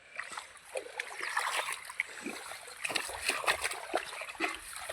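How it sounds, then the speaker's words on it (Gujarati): Irrigation water gushes and splashes into a wheat field, a continuous rushing, splattering flow heard close and fairly loud throughout, with no clear talk over it. "હવે જો પાણી ચાલુ કરી દીધું છે હવે."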